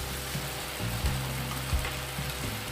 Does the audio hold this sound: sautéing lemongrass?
yes